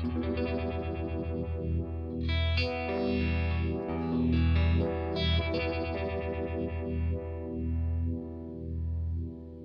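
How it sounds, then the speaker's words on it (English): Electric guitar through a slow, watery Uni-Vibe effect, sustained chords and notes swirling with a gentle pulsing throb, moderately loud and alone without talking. "one that's capable of getting that really slow, you know, very calm, watery sound"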